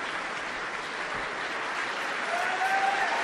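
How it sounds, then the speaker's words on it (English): Audience applause for the chorus of Wexford Festival Opera during curtain calls of the opera Il bravo: steady, dense clapping from a large indoor crowd, even and continuous throughout. "Applause for the chorus of Wexford Festival Opera"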